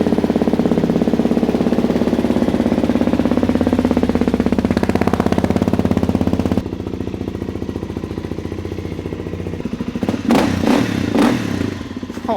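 A Suzuki DRZ400SM motorcycle engine runs close up at a fast, steady idle with a rapid thumping single-cylinder pulse, then settles to a lower idle, with clattering knocks near the end.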